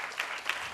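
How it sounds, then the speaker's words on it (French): An audience at a show with the group Magic System bursts into dense, loud applause, a brief wash of many hands clapping together with no talking. "Est-ce qu'on peut l'applaudir très, très, très, très fort?"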